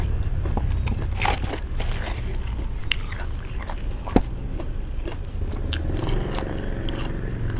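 Crunchy boiled pig ear being bitten and chewed up close, with repeated crisp crunches and wet mastication running steadily throughout, no talking.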